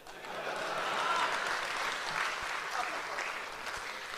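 An audience at a mushaira poetry gathering breaks into sustained applause after a poem recitation, clapping swelling quickly and holding steady before gradually tapering off, with a faint murmur of voices underneath.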